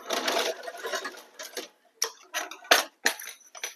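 Sewing machine stitching the lining to the main fabric of a small round tiffin bag, running close in short bursts with brief pauses and clicks between runs.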